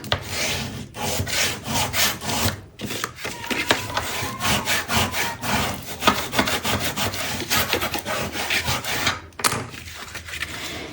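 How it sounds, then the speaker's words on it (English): A folded paper card for a tent-fold card being burnished, rhythmic rubbing strokes scraping back and forth in quick repeated bursts with brief pauses, close and fairly loud. "fold it once and give it a good burnish"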